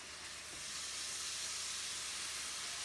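Bacon and potatoes cook together on a hot surface, giving a steady, even sizzle like a broad hiss that swells slightly and holds constant, close and unbroken with no voices.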